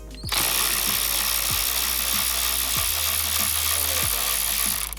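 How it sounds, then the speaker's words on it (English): An electric ratchet spins off the taillight bolts on a Subaru BRZ, giving a loud continuous motor whine punctuated by about five sharp clicking ratchet bursts at regular intervals. "I got this electric ratchet."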